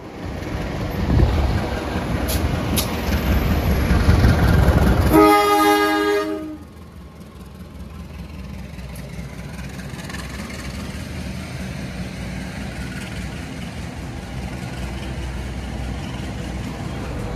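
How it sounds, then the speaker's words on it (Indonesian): A nearby Sawunggalih passenger train rushes past with a loud rumbling roar and a horn tone, then cuts off abruptly, leaving quieter steady background hum. "Kita ketemu sama kereta api Sawunggalih, teman-teman."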